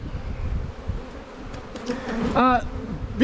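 Honeybees at an opened hive give a close, steady buzzing drone that swells briefly near the end.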